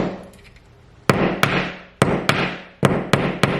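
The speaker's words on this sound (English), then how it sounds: "on the instructions, it says tap in the extractor" Screw extractor from a HART 5-piece set being hammered in: six sharp metallic taps in pairs, close and loud, each with a short ringing decay, over a quiet room with no voices.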